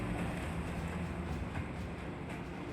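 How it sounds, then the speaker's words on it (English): Hitler's special wartime train, the Sonderzug, running on rails: a steady, dense rumble of rolling carriages with faint rhythmic wheel clatter, continuous and fairly close throughout, with no voices. "Hitler's Sonderzug, his special train"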